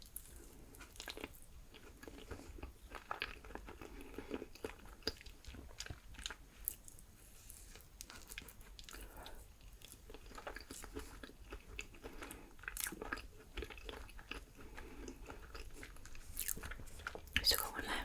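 Loaded potato skins topped with nacho cheese and jalapeño being bitten and chewed close up, with soft wet mouth sounds and occasional crunches repeating steadily throughout at a quiet level.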